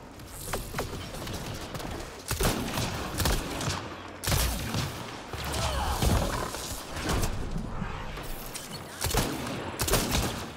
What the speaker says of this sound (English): Why is everyone just shooting at me?